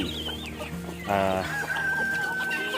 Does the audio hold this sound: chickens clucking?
yes